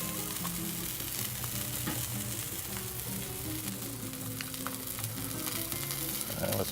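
Pork and turkey sausages fry in grease on a Blackstone griddle, giving a dense, continuous close-up sizzle with faint stirring and no voices.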